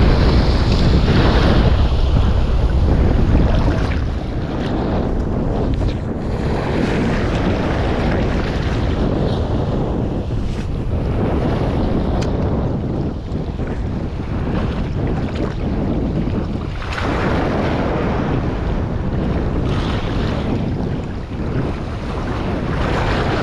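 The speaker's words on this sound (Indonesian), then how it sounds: "Harus ngadepin ombaknya ini dulu tapi." Rough sea waves break and surge against a fishing spot while strong wind buffets the microphone in heavy, continuous gusts, with no voices.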